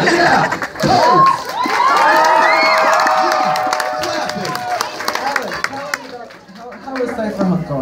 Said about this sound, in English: We got some clapping.